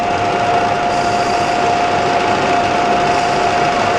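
Metal lathe at 250 rpm cutting a 5 mm deep groove for a round belt into a pulley: a loud, steady machine drone with a constant whine and no pauses or voices.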